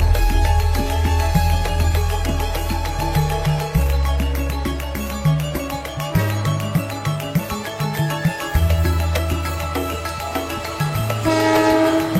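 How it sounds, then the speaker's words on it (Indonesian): The Penataran train from Malang passes close by, sounding a loud, sustained horn over the rumble and rhythmic clatter of wheels on rail, with no voices. "merekam kereta penataran dari Malang"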